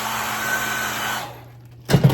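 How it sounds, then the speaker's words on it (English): A steady blowing roar of a hair dryer runs for over a second, cuts off into near silence, then a short louder burst of noise follows. "blast that with the dryer for a second."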